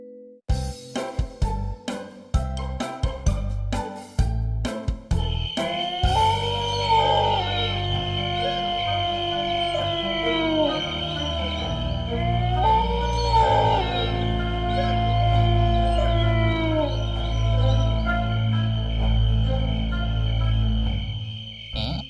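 In a Honey Bunny cartoon set at night during a Himalayan car rally, a snow dog howls in long, wavering, rising and falling cries after a run of sharp clicks and plucked notes, backed by a steady low drone.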